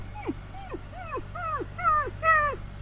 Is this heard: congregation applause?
no